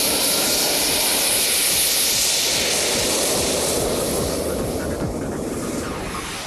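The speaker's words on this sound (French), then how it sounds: "c'est un réacteur Jet 4 d'origine allemande" Model Mirage 2000 jet powered by a German-made turbine engine, giving a loud, steady broadband roar that holds throughout and fades slightly near the end, with no talk.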